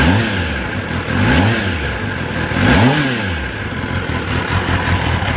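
A newly serviced 2021 Kawasaki ZX10R motorcycle engine rev-blipped three times over a steady idle, each rev swelling and dropping quickly, loud and close, with no talking.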